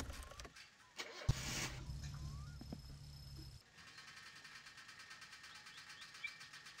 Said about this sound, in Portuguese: Como é que eu vou fazer a regulagem desse carro se ele tá apagando o tempo todo?